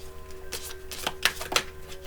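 Tarot cards are shuffled by hand, a few quick riffling bursts of crisp papery flutter close up in a quiet room with a steady low hum beneath, no talking.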